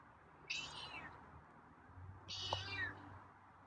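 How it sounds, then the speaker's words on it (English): A feral cat meows twice, about two seconds apart, each call fairly faint and short against quiet outdoor background. "Yeah, got some meows today."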